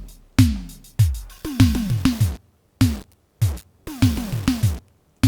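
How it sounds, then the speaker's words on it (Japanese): An Arturia Spark drum machine plays a punchy kick-and-hit pattern through a bitcrusher effect, giving each loud, repeating beat a gritty, hissy, degraded top end with no voices. "ビットクラッシャー、どんどん音が悪くなってる。"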